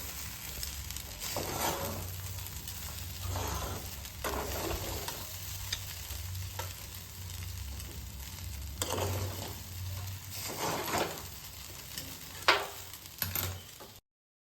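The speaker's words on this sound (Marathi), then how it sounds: "आता याला मिक्स करून घ्यायचंय परत एकदा व्यवस्थित." Poha sautéing in a pan on the stove, with repeated scraping stir strokes over a soft steady sizzle and a low background hum, one louder clack near the end.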